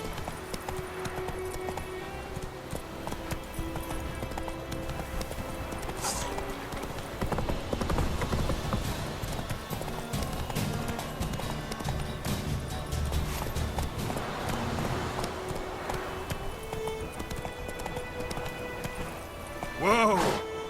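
Hooves of the horse Roach in The Witcher 3, a steady clip-clop of galloping over rough ground under continuous game music and ambience, with a voice calling out and a brief whinny near the end.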